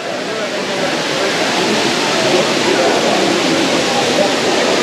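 Courtallam waterfall roars as a dense, steady wash of falling water, loud and close, unchanging throughout with no distinct events.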